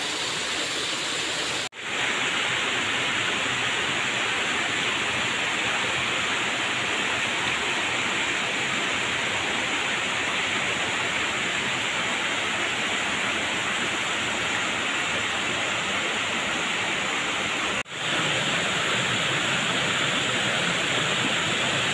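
Curug Siklotok waterfall at Kaligesing, Purworejo, pours in a steady, broadband roar that stays constant throughout, close and fairly loud, with no voices over it.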